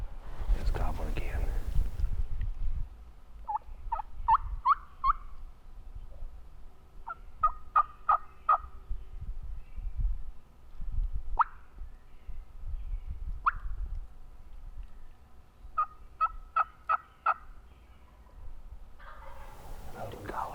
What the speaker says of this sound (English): It's gobbling again.